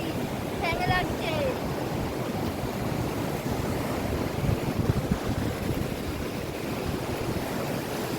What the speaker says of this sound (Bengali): এই হলো ঢেউ,